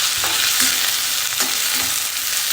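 Cabbage and other vegetables for paneer chilli are tossed in a hot pan, with loud continuous sizzling and a few repeated scraping stirs of a spatula.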